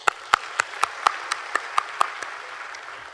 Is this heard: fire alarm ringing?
no